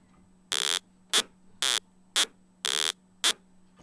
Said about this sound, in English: This is a more metallic type of sound, which is a bit like a washboard.